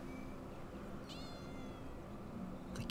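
Cat meowing in the video game Time Loader, a single drawn-out mew heard faintly over a steady background drone, followed by a short clatter near the end.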